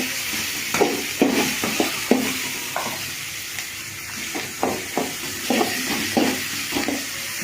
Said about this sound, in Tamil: நல்லா கலர் வர வரல வதக்கினா தான் வெங்காயம் நல்லா வேகும்.